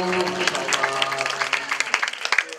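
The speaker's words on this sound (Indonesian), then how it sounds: "tepuk tangan dong para figur" An audience at an Islamic gathering breaks into scattered applause, uneven bursts of claps rising and falling, with a voice or tonal sound lingering underneath at the start.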